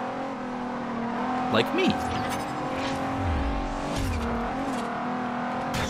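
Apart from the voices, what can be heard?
Nissan GT-R engine revving in Forza Horizon video game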